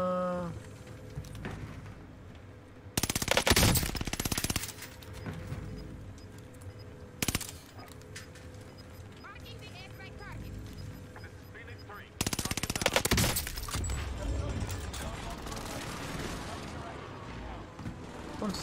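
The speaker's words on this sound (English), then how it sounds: "Someone's sniping at me." Gunfire in Call of Duty Warzone on Rebirth Island: a few loud, sharp bursts of shots that stand out against a low background of game noise, with no talking during the shooting.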